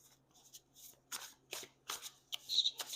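Tarot cards are shuffled close up in a series of quiet, brisk riffles and soft snaps, faint against a low background hum.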